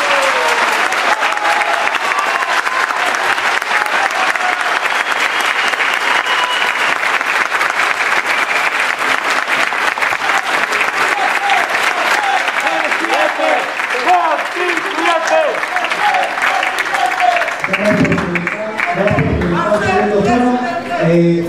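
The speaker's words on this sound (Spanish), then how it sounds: "Un aplauso para el profesor y para Marcel" Sustained audience applause for a speaker among students in Antofagasta, Chile, dense and loud clapping throughout, thinning toward the end as scattered voices and a few louder claps come through.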